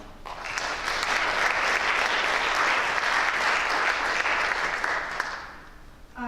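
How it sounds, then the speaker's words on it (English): Audience applause at a high school National Honor Society induction ceremony, a steady sustained burst of clapping from a large crowd lasting several seconds before tapering off at the end. "Please give them a round of applause."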